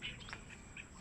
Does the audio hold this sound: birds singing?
yes